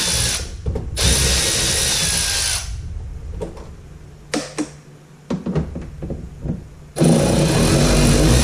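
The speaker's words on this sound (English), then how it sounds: "we're just gonna take these 7mm bolts out." A power ratchet backs 7mm bolts out of a 2005 Chevy Corvette headlight in loud buzzing bursts of several seconds, separated by quieter clicks and handling knocks.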